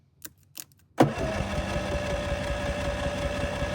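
Two faint clicks, then a Predator 5000 inverter generator's small engine sputters to life and settles into a steady, buzzing idle that runs on evenly, close by.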